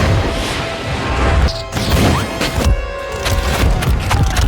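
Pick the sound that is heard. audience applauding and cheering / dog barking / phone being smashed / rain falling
phone being smashed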